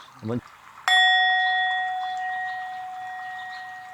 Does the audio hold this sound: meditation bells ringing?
yes